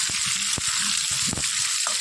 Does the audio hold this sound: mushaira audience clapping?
no